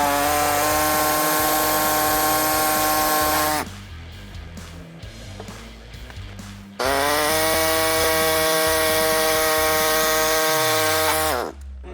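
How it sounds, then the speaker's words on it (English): A power tool cuts through a Nissan Frontier assault bumper to make room for fog lights: a loud, steady whining cut, a pause of quieter rattling, then a second sustained cut that stops abruptly. "So what I'm gonna do is just make a quick little cut right there and bolt the fog lights back in."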